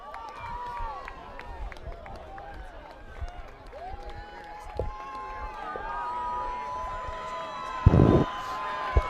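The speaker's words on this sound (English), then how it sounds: "Fans getting loud here in front of us" Crowd and student section at a high school football playoff game, Manitowoc Lutheran at Lomira, with steady crowd noise building up, whistles and shouts over it and a loud burst of cheering near the end, partly under commentary.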